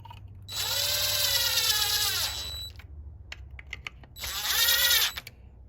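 A power driver runs screws into a Stihl 046 (MS460) chainsaw during final assembly in two loud whirring bursts, about two seconds and one second long, with clicks and handling noises in the pause between.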